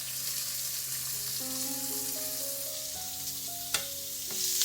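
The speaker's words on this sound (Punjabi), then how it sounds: "ਇਹਨਾਂ ਨੂੰ ਹੁਣ ਆਪਾਂ ਲਾਈਟ ਜਿਹਾ ਬ੍ਰਾਊਨ ਹੋਣ ਤੱਕ ਭੁੰਨ ਲਵਾਂਗੇ" Two finely chopped onions fry in a pan with a soft, steady sizzle throughout, with a few stirring clinks and quiet tonal background hum.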